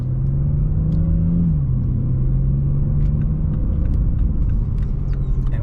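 A BMW F series car with newly fitted paddle shifters drives along, heard from inside as a loud, steady engine rumble whose pitch drops once as it shifts, with no talking.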